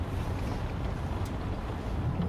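Blustery wind buffets the microphone at Heathrow airport, a steady rough rush of low noise with gusty swells, fairly faint and unbroken, no one talking.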